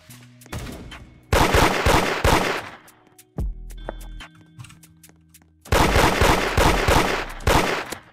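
Rapid automatic gunfire crackles in loud bursts from a Roblox Da Hood fight, two long volleys separated by a few single shots and softer game sounds.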